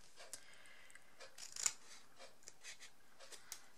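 Scissors cutting along folded paper make quiet, crisp snips, with a few soft cuts and one sharper snip in the middle, close and alone.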